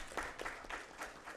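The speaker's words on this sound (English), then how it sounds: "Let's give him a round of applause." Quiet, brief patter of audience clapping at an energy efficiency symposium and anniversary celebration, thin and somewhat distant, without voices.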